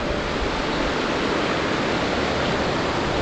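Flowing water on a trek through the Valley of Flowers in Chamoli, Uttarakhand, rushes in a steady, loud broadband roar, like a nearby stream or waterfall, with no voices over it.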